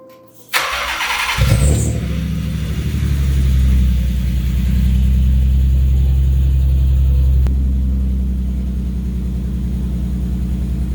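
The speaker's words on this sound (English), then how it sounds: "just an idea of what a cold start sounds like on this" A right-hand-drive Nissan 300ZX Z32 cranks and fires into a cold start, then settles into a loud, steady, deep idle close by.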